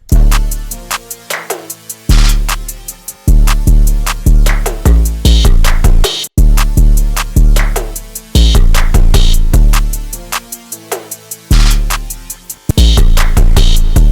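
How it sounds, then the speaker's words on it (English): A punchy hyperpop drum loop with sharp hits and short, abruptly cut-off gated reverb tails, repeating in a driving rhythm with booming low bass. "This gated reverb actually sounds crazy."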